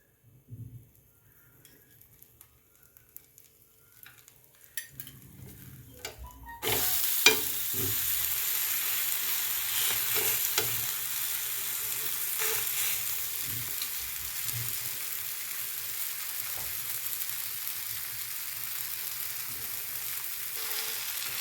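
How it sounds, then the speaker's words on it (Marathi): Green peas uttapam sizzles in oil on a pan after being flipped, with a drizzle of oil added on top. A few light clatters give way to a loud, steady, close frying hiss that continues to the end. "आता उलटूया याच्यावर थोडंसं तेल सोडायचं"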